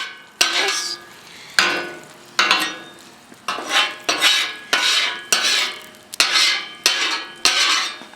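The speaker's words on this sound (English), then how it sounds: "we got a bunch of residual stuff scraping off" A metal scraper working residue off a hot Blackstone griddle, with about eight loud, rhythmic scrapes at roughly one-second intervals, each starting with a sharp attack and trailing off, close up and without talking.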